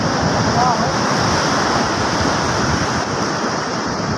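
Typhoon Inday's wind and sea waves on a fishing coast, a loud steady roar of surf and gusts that fills the whole stretch without a break.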